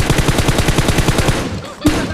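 A rapid automatic burst fires loud and close in a battle royale shooter, then cuts off into a short pause and a single final shot.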